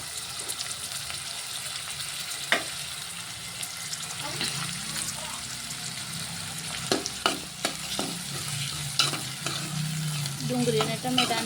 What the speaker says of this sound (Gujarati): તો આપણે પહેલાં તો ડુંગળી અને ટમેટું નાખી દઈએ.